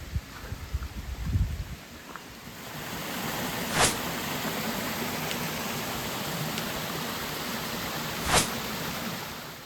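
Waterfalls beside a forest path on the climb toward Clougha Pike in the Forest of Bowland give a steady, even rush of water. A low rumble sits under the first seconds.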